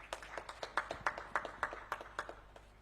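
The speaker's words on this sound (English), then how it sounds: "Let's give him a round of applause." A small, distant group claps at a conference, about a dozen slow, fairly even claps at moderate level that fade out over a few seconds, with no talk over them.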